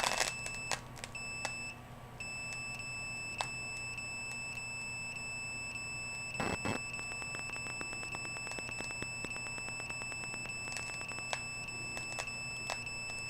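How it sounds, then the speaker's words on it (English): Electronic alarm from an activated cell phone: sustained high tonal beeping with steady pitched lines over a continuous background hum, punctuated by clusters of rapid clicks and ticks throughout. "That alarm is because my cell phone is activated."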